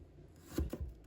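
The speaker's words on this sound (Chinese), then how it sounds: "把生姜切成片" A knife slicing fresh ginger on a cutting board, giving a few soft, quick chops close by in a quiet kitchen.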